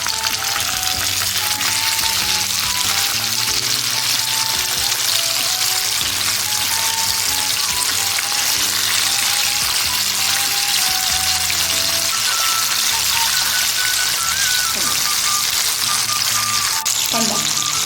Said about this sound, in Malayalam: മത്തി അങ്ങോട്ട് വറുത്ത് വയ്ക്കണം